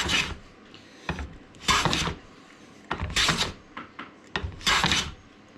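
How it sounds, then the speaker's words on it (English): A hand plane is pushed over a board of ebony-substitute wood in a series of close, separate rasping strokes, about five passes with short pauses between them. "Let's try planing it and see what it's like."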